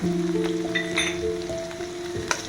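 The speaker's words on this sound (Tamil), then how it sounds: "நல்லா வதக்கி விட்டுருங்க" Onions sauté in hot oil with curry leaves and green chillies, making a brisk, continuous sizzle with a few stirring clicks, close and fairly loud.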